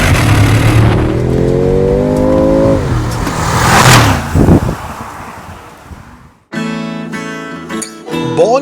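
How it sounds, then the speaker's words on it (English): Mercedes-AMG G63 with the M177 4-liter twin-turbo V8 in Sports Plus mode, revving hard: a loud, rising engine roar that swells and then fades as the SUV passes, followed by a deeper, rumbling rev burst close by. "one thing that you can't get enough of is this M177 4-liter twin turbo V8"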